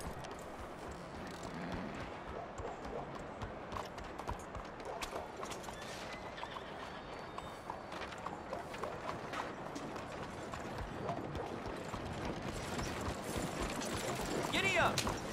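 A horse neighs and its hooves clip-clop at a gallop in Red Dead Redemption 2, a steady mid-distance drumming of hoofbeats that builds louder toward the end, with voices talking faintly over it.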